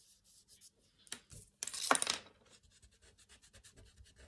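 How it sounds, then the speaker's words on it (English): An eraser rubbing out a pencil line on paper during a shading drawing: soft, close scrubbing strokes in short bursts, with one louder, longer rub in the middle. "I'm erasing that line so she doesn't have that hard edge there."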